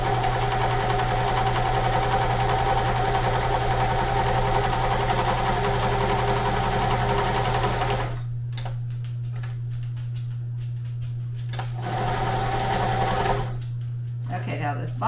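A sewing machine stitches a hem along a bottom edge, loud and continuous with a steady motor hum and rapid needle ticking, then pausing into intermittent bursts and quieter handling noises near the end.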